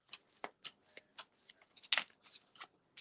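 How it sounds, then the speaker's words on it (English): Oracle cards being shuffled by hand during a live tarot reading: a run of quick, crisp riffling and rustling bursts in an irregular rhythm, one sharper flurry near the middle, close and clear with no talk. "You just making me shuffle, shuffle, shuffle."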